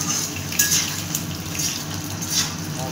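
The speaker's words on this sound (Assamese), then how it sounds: "এতিয়া আলুখিনি ফ্ৰাই কৰি লোৱা হ'ব" Potatoes frying in a home kitchen pan, with a steady low sizzle under repeated clinks and scrapes of a utensil against the metal, close and fairly loud.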